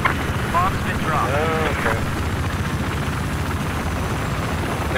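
In a Battlefield 4 multiplayer match on the Shanghai map, a helicopter gives off a loud, steady rotor roar that fills the whole stretch, with a brief warbling tone early on.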